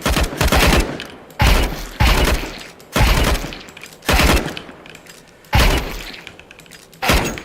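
Gunfire in the Valorant shooter game comes as about six sharp, loud bursts of rapid shots, each separated by a short pause and tailing off into a brief echo.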